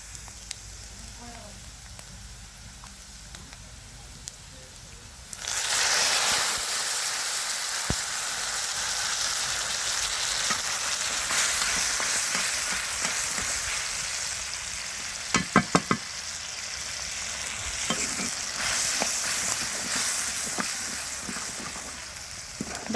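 Dal poured into hot spiced oil sets off a sudden loud sizzle partway through, then a steady bubbling hiss with stirring scrapes and a few sharp utensil clinks.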